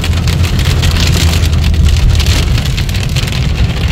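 Heavy night-time winter rain pours steadily in Chandigarh with a dense, constant hiss and a low rumble underneath, loud and close throughout.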